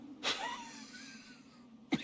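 Someone sneezes twice at low level, with sharp bursts at the start and end over a quiet, breathy background.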